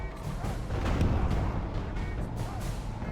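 Artillery fire rumbles during a siege battle in Total War: Medieval 2, heavy booms and crashing impacts rolling continuously at mid distance, with faint battlefield clatter beneath.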